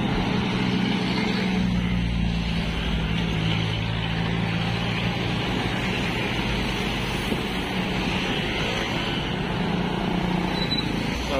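A motorboat passes on open water near Navotas, its steady engine drone loud and continuous with wind and broad wash throughout, no voices standing out.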